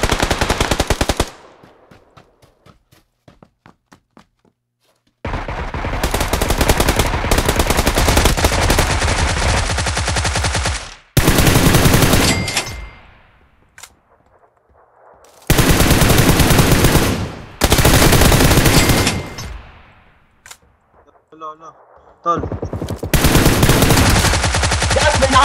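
Sustained bursts of rapid automatic gunfire in PUBG Lite, loud and close, broken by short silent gaps and a few single shots.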